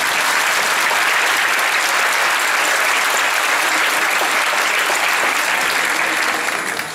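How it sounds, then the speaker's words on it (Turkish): Sustained audience applause at a community gathering, a dense, steady wash of many hands clapping, loud and close, holding evenly for about seven seconds before easing slightly at the end. "Bir alkış alalım."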